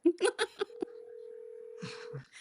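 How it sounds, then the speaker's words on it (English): Telephone keypad dialing: a quick run of separate dial beeps, then a long steady tone, with faint voices near the end. "Oh, he's making a phone call."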